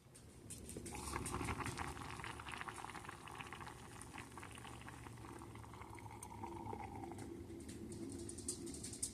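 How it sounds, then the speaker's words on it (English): Vegetable soup for one, a Mediterranean roasted vegetable soup with pasta to come, rumbles and bubbles steadily toward a boil in a pot, a continuous close simmering wash with no voices. "So I'm going to bring this to a boil"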